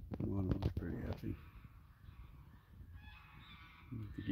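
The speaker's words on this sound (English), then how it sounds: "The geese are saying hello." Geese honk loudly in a quick burst of calls nearby, then a quieter stretch of faint outdoor sound, with a few more calls at the end.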